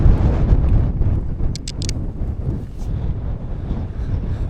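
Strong wind buffeting the microphone on an exposed hillside camping spot, a constant low rumbling roar with gusty swells and a few faint higher clicks, with no voices.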